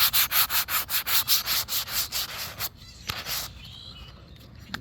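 Sandpaper rubs over primer on an Estes Hi-Flier XL model rocket in quick, even back-and-forth strokes for about three seconds, then a few softer, scattered scrapes follow.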